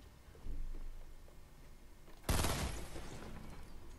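Rapid pistol shots fired by hammering the trigger in Fortnite: a faint pop early on, then a sudden loud volley that trails off with noisy reverb.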